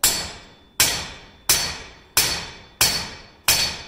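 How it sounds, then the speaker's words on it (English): A hammer strikes a horseshoe on an anvil to spoon the heel, six sharp ringing blows at a steady rhythm, each one decaying before the next. The blows are close and loud, with no voices. "with each blow, I am bringing that hammer down and through me"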